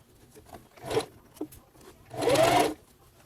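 A sewing machine stitching a dog coat made from Simplicity pattern 8538, a short whirring burst of stitches, then a pause with small handling noises, then a longer, louder run of stitching, close by, no talking.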